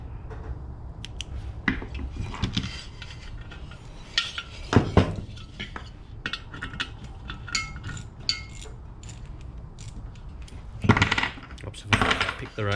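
Metal sockets clink and rattle near at hand while a heater is stripped down in a cold caravan, sharp clustered jingles in bursts, loudest toward the end.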